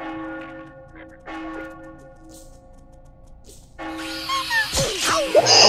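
A bell rings out in the Roblox horror game Slender Man's Revenge, a few sustained tolling strikes with long ringing tails, followed by louder mixed game noise and movement toward the end.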